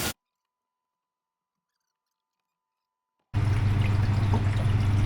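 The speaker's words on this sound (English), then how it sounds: "the water's coming in through the top pipe now" Water pours through a pipe into a terrarium box, starting abruptly after several seconds of silence and then keeping up a steady, close splashing gush.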